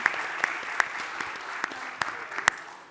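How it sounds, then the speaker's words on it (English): An audience applauds a panel at a hospitality and destination investment conference, with a dense patter of clapping and a few sharper individual claps standing out, steady and moderately loud throughout. "Please welcome and give everyone a round of applause."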